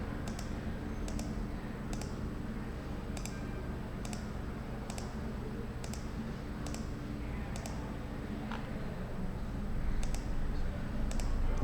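Computer mouse clicks while working in CAD drafting software: about a dozen crisp, evenly spaced clicks, roughly one per second, faint over a low room hum.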